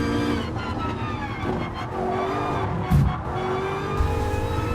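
A race car engine revs and accelerates out of corners at Brands Hatch in Gran Turismo Sport, played without traction control, a loud sustained whine rising and shifting in pitch with no talking.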